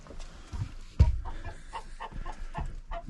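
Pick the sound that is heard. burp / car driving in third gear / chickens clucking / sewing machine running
chickens clucking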